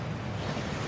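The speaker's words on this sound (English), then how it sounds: "That waterfall washes away all enchantments." Waterfall in a fantasy film scene set at Hogwarts, a steady broadband rush of falling water, loud and continuous with no pauses.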